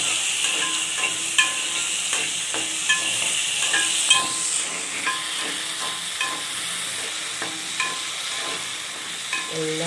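Eggplant frying in oil for a fish curry, a bright continuous sizzle and hiss punctuated by regular scraping stirs and light clicks of a spoon against the pan, close and steady with no voices.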